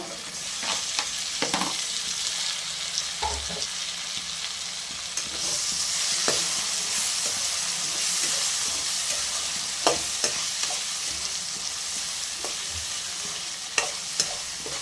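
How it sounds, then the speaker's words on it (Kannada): Tomatoes fry in a little oil for a mutton gravy, giving a steady hiss and sizzle close by, broken by irregular scrapes and taps of a spoon stirring the pan, with no talking. "ಇದು ಟೊಮಾಟೊ ಎಲ್ಲ ಸ್ವಲ್ಪ ಚೆಂದಾಗಿ ಫ್ರೈ ಆಗಿ ಗೊಜ್ಜು ಗ್ರೇವಿ ಥರ ಆಗಬೇಕು"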